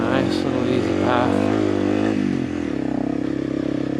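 An off-road vehicle's engine labors in first gear as it climbs a trail near Turkey Creek, a steady close rumble with slight revving surges before easing to a lower drone.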